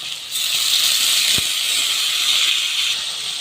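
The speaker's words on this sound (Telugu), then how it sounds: "ఇందులో మటర్ కొంచెం ఫ్రై అయిన తర్వాత టమాటాని వేద్దాం" Tomatoes hit a pan of frying peas for tomato rice, giving a loud, steady sizzling hiss that holds evenly throughout.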